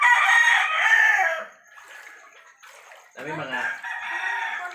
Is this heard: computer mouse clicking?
no